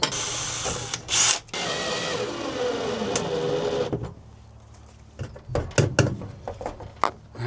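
A power drill drives screws into a shelf inside a cargo trailer, a loud continuous whirring run for several seconds, then a pause followed by short bursts and knocks.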